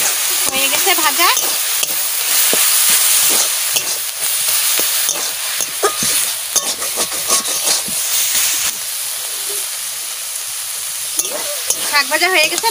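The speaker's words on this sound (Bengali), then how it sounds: "শাক ভাজা হয়ে গেছে, নামাই নিচ্ছি।" Leafy greens with whole green chillies and salt fry in a pan under a loud, continuous sizzle, with repeated scraping stirs and crackles close by and a faint voice near the start and end.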